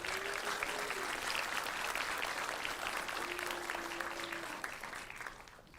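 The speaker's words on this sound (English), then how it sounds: "let's give them a round of applause." Audience applause fills a commencement ceremony hall, a steady dense clatter of many hands that holds even throughout and tapers slightly at the end, with a faint tone lingering underneath.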